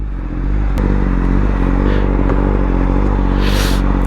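A superbike ridden at speed, its engine a loud, steady, close drone with a single sharp click early on and rushing wind noise, no talking.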